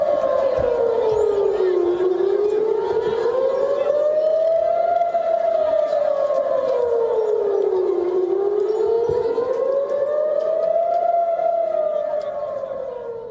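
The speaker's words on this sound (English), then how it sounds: "Warning sirens sound heard ever so often all across Israel." Air raid warning sirens wail across Tel Aviv, Israel, a loud, continuous civil defense siren rising and falling in slow, steady cycles throughout, with no other sound standing out.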